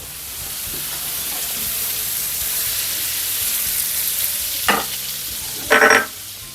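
Butter melting in a frying pan gives a steady, even sizzle with faint stirring, followed by two short louder scraping or clinking bursts near the end, no talking.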